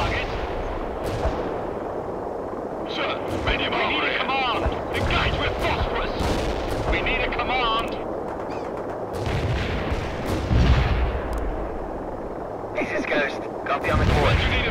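Medium tank guns firing phosphorus shells in World in Conflict during an invasion battle, repeated heavy booming blasts and crackling gunfire with dense battle noise throughout, as voices talk over the combat.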